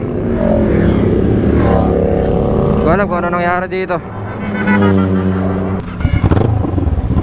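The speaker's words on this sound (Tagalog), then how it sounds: "Tumirik bigla yung motor ko." In a video game, a motorcycle engine revs unevenly, sputters and cuts out, loud and close, while someone talks over it.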